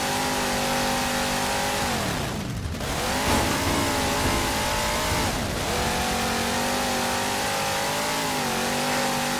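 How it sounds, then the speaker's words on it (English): A vehicle engine in Halo 4 drones loud and close with a buzzy, motorcycle-like tone, its pitch holding steady, dipping twice and climbing back as it revs, with no talk over it. "this sounds like a motorcycle rather than a car"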